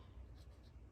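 A Kaweco fountain pen with a replaced nib scratches briefly across journal paper, a faint, close, dry scrape lasting under a second with nothing else heard.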